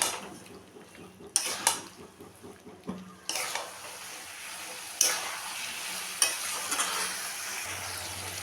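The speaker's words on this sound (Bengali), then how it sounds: "দিলাম আদার পেস্ট, দিলাম রসুনের পেস্ট, মিশিয়ে নেব ভালো করে" Ginger and garlic paste fries with chopped onion in a pan while being stirred, giving a low steady sizzle broken by a few sharp scrapes and knocks of the spoon against the pan; no talking.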